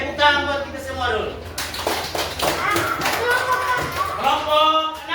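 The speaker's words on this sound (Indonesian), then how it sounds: "Tepuk tangan buat kita semua dulu" Children clap together in a classroom, a dense burst of applause mixed with kids' voices, while an adult talks over it at the start.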